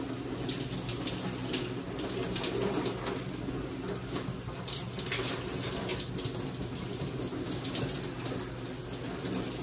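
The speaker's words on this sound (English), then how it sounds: "we're gonna put the water in it." Tap water runs steadily to soak a small mani/pedi body-wash sponge, a constant close splashing stream lasting the whole stretch with no talking over it.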